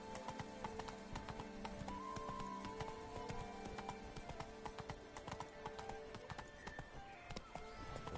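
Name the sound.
horse Roach galloping in The Witcher 3 video game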